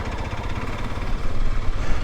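A motorcycle on a long-distance road trip, its engine running loud and close with a steady rough drone that swells slightly as the rider pulls away.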